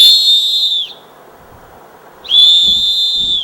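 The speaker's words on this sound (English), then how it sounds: "Whistles can be heard a long, long distance" A children's safety whistle gives two loud, shrill blasts, each under a second long, separated by a short quiet gap.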